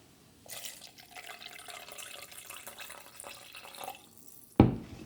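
Fresh water pours into a cooking pot or bowl, a steady splashing stream for several seconds, close up, ending with a sharp clunk as the container is set down.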